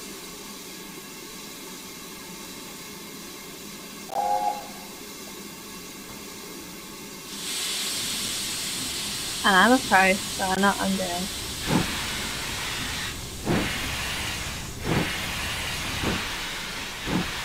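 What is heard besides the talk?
steam locomotive Camelot starting, Train Simulator 2017 video game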